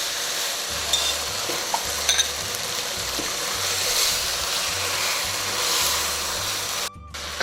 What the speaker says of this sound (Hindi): थोड़ा सा घी और डाल देती हूँ। अच्छी तरह इसकी भुनाई कर लेते हैं।